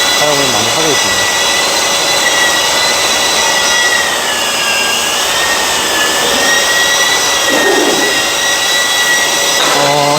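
Power sander running with 150-grit sandpaper on a job site, a loud continuous whine with a steady high-pitched tone throughout, a brief shift in pitch midway and near the end.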